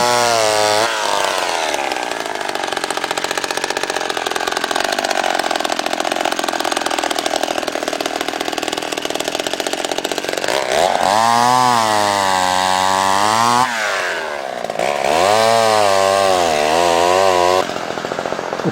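A chainsaw cuts wood at a lakeside camp cabin, running loud and close with a steady high whine, then revving up and down in bursts as the blade bites into the wood near the end.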